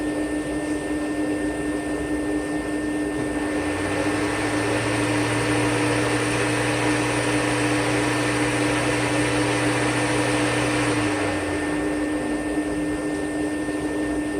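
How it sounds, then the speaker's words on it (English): A Rainbow E2 Platinum vacuum drones steadily, and partway through its PN12 power nozzle switches on, adding a low motor hum over the constant whoosh for several seconds before cutting out again. "Now I'm going to turn the power nozzle on."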